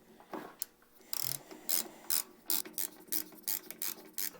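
Set screws on a Harbor Freight drill press being tightened, heard as a run of quick, close ratcheting clicks repeating in short regular bursts, with no one talking.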